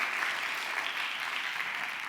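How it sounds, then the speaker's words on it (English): An audience at the Earth Optimism Summit gives a round of applause. Dense, sustained clapping from a sizable crowd holds steady for the whole stretch, with no talk over it. "Can we just give them a round of applause?"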